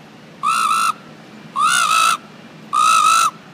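A man's whistle imitates a frog's call: three separate steady, tonal calls of about half a second each, evenly spaced and clearly heard alone.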